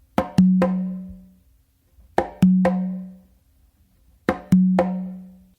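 Congas play a guaguanco pattern three times in a steady cycle. Each cycle has quick sharp slaps followed by a ringing open tone that sustains and fades, with short pauses between repetitions and no voices.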